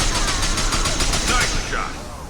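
Rapid automatic gunfire from a Mass Effect 2 firefight, a dense, steady burst of shots that runs for about a second and a half, then eases off as talking continues over the game audio.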